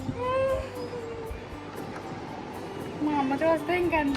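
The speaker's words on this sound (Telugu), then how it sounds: "క్యాట్ వేస్తావు అనుకోలేదు" A new pet kitten mews in short, high cries, a couple near the start and a cluster toward the end, over quiet indoor background noise.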